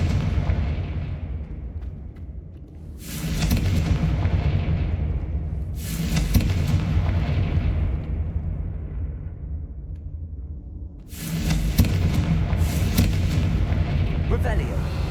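Fire-blast spell explosions in the Hogwarts Legacy video game, several heavy booming blasts a few seconds apart, each with a long rumbling tail over a loud continuous roar.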